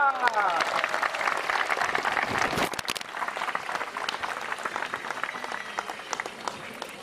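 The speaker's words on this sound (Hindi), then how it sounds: "तालियां तालियां" An audience at a devotional katha gathering bursts into sustained applause, dense and lively many-handed clapping with a voice over it at first, thinning slightly toward the end.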